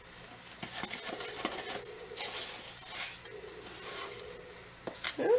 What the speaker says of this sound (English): You've really got to mix that neon pigment in so that you don't have streaks.